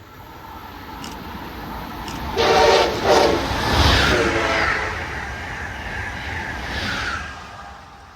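An Amtrak train on the Northeast Corridor sweeps past at speed, its rumble building to a loud rushing roar as the horn blares in two bursts, then the wheel and wind noise slowly trails away.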